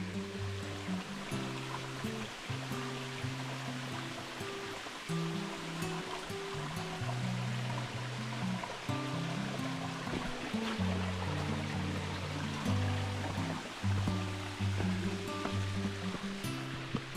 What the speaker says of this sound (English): This is a creek crossing.